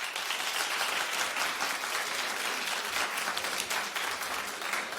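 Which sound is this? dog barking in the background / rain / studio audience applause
studio audience applause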